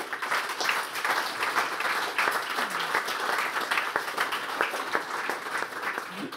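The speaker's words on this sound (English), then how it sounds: "give a big round of applause to the panelists" Sustained applause from a conference audience honours the panelists at a session on IFRS accounting and regulation. Many hands clap in an even, continuous patter at moderate loudness, with sharper individual claps poking through.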